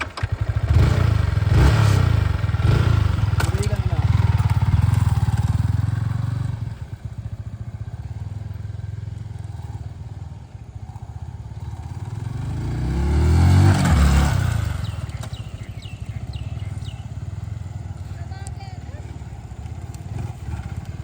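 A Yamaha R15 V4 motorcycle engine and exhaust, loud and close, with a strong low rumble that swells early on, eases into a steady idle, then surges again in a second rev before settling back.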